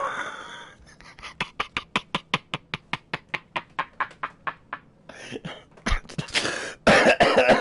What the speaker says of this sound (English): Bend over, Martha. Cough twice.